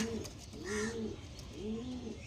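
Punjabi pigeons coo close by in soft, rolling, throaty calls, two or three rising-and-falling phrases in quick succession over light background noise, with no talk.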